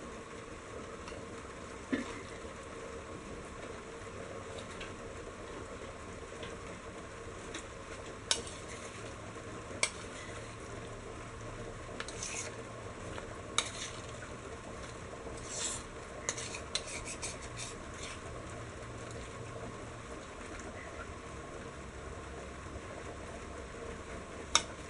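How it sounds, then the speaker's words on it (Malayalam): Beef fries in hot oil in a heavy pan for Kerala-style beef fried rice, giving a steady close sizzle with scattered clinks and scrapes of stirring utensils against the pan. "ഓയിൽ നന്നായിട്ടൊന്ന് ചൂടായി വരുമ്പോൾ നമുക്ക് ബീഫിട്ട് ഫ്രൈ ചെയ്തെടുക്കാം."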